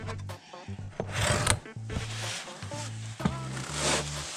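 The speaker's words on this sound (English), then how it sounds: "now we're just gonna spin it off and spin the new one on" Oil filter being spun off a Kubota B2601 tractor by hand, giving a steady scraping, rubbing grind with short gritty bursts over a low hum, close up and without talk.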